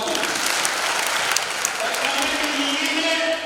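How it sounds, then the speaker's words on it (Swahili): A church congregation applauding at a first communion gathering in a parish, a dense, steady burst of clapping close by for a few seconds. "Makofi kwake."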